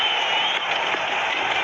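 A sellout cricket crowd at Pallekele during Bangladesh versus Sri Lanka keeps up a continuous broad roar of cheering and applause, loud and steady, with no distinct voices standing out.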